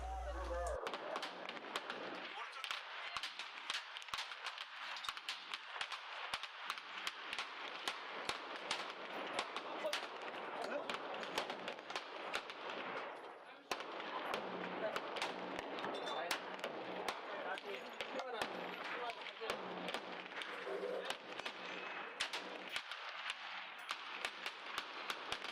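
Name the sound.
pistol gunshots firing Wilson Combat ammo at target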